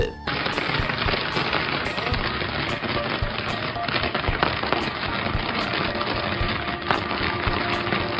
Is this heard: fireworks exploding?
yes